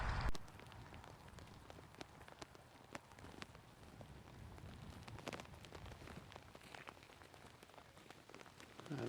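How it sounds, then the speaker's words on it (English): Steady rain falls on outdoor surfaces during a rabbit hunt, a continuous close patter with scattered sharper drops and faint rustling, no talk. "This rain isn't good, is it?"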